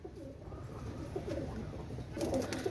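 Pigeons cooing at a Pakistani top-quality pigeon sale, soft low coos repeating through the clip with a louder burst near the end, no talking.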